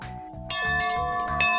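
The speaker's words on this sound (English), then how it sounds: "The sound of the ringing of the antique brass bell kicks off the inaugural Bell Ringer race." An antique brass bell rings out to start an outdoor trail race, giving several sustained metallic tones with a bright shimmer that carry over low crowd and ambient noise.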